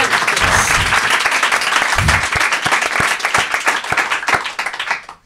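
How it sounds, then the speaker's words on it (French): An audience at a French comedy podcast recording applauds loudly and steadily for about five seconds, dense clapping that thins into scattered individual claps before ending. "On peut applaudir aussi, les gars."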